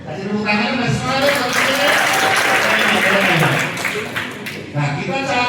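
Applause from a hotel table-manners event audience for a student, steady and fairly loud through the whole stretch, mixed with voices and crowd chatter.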